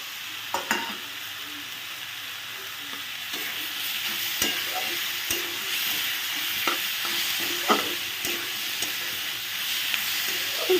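Prawns hit a hot pan with pointed gourd and sizzle in a continuous frying hiss, while a spoon stirs and clicks at scattered moments throughout.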